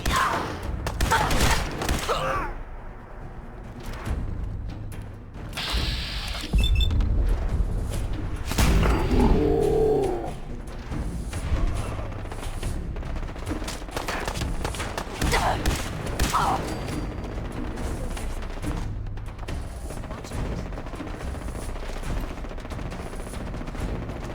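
Rapid bursts of gunfire in a Fallout 4 battle, loud and close, with heavy booming shots and crackling volleys spread across the clip while a man exclaims over the action.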